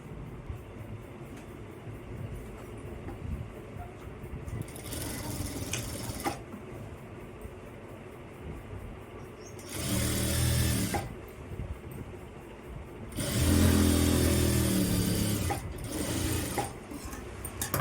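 A sewing machine stitches a pant waistband in several short bursts of rapid, close mechanical chattering, with quieter pauses between the runs, and no talking.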